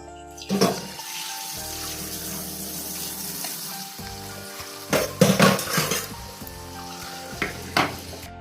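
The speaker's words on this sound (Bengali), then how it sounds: "তো তেলটা গরম হয়ে গেছে, এবার চিকেনগুলো দিয়ে দেবো।" Chicken pakora pieces hit hot oil in a kadai, sizzling steadily in the background with several louder bursts of crackle and stirring clatter close by, and no talking.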